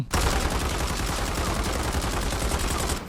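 Sustained automatic fire from a CR-56 AMAX (Galil ACE) assault rifle in Call of Duty, a dense, loud, continuous rattle of rapid shots with no pauses.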